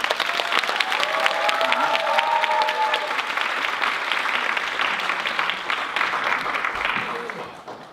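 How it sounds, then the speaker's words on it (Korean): A large audience at a volunteer speaking event gives sustained, loud applause to welcome the first speaker, with dense clapping throughout and faint crowd noise that fades near the end. "첫 번째 주자가 나올 때 정말 큰 박수로 맞아주시면 되겠습니다"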